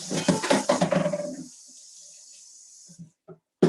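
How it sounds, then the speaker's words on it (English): Water from a kitchen tap runs in a steady faint hiss as a cutting board is rinsed, following a voice at the start, then a few light knocks at the end. "I'm going to rinse off my cutting board"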